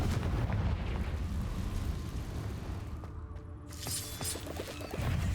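The Confringo blasting spell in Hogwarts Legacy goes off as a sustained, loud booming roar of explosions with crackling debris, briefly easing in the middle before surging again.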